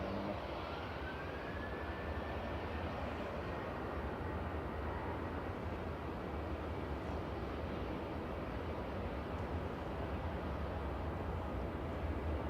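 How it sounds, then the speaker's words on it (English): A TUI airliner rolls for takeoff at Manchester Airport bound for Ibiza, its jet engines a broad, steady roar holding level throughout with a faint whine, heard from a distance and uninterrupted by talk. "This is TUI rolling to Ibiza."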